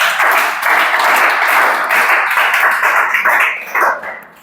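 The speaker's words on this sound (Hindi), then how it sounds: "ताली बजाओ कर लिए।" A classroom group claps together, producing a loud, dense, continuous patter that holds for about four seconds before tapering off.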